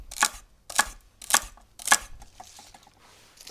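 A knife chops celery on a cutting board while a tomato soup is being made: four sharp, evenly spaced chops, close and crisp, then quieter handling noises with no talking.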